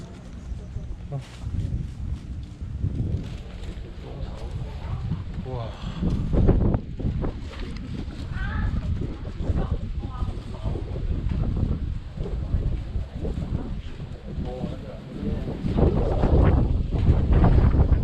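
Strong gusting wind buffets the microphone at the top of a tall steel-framed viewpoint tower in Langkawi, roaring steadily throughout with people talking underneath.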